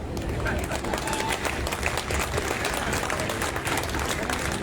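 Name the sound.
audience applause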